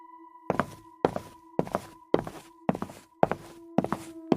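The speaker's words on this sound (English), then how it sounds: "Then he heard footsteps behind him." Footsteps as a horror-story sound effect: eight slow, evenly spaced heavy steps, each a solid thud with a slight scrape, close and distinct over a faint low tonal hum.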